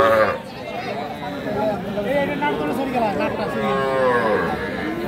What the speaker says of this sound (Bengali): দুইটা কিন্তু সার বাছুর